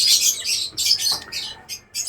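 Birds in a backyard aviary set up around an outdoor hangout spot give quick, repeated high chirps and squawks in short bursts, close by with brief gaps between calls and no talking.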